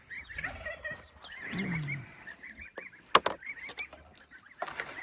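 Ducks calling from inside their pen, several harsh honking quacks scattered over a few seconds, fairly close and moderately loud, with rustling and a couple of sharp knocks mixed in.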